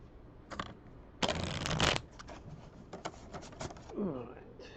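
Playing cards are shuffled nearby in a couple of short riffling bursts, fairly quiet, with light handling noise and a brief voice toward the end.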